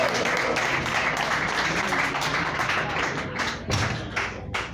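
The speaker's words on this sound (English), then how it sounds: "Another round of applause for Johnny Hobbs." Dense applause from a comedy club audience at McCurdy's in Sarasota, Florida, a continuous wash of clapping that thins toward the end with a few scattered claps.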